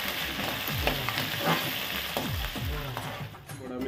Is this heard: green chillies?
yes